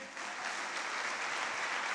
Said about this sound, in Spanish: Puedes dar un aplauso a Jesús